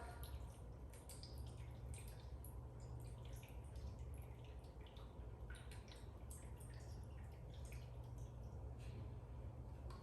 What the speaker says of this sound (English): So I'm gonna pour this water in here and just see how much water it takes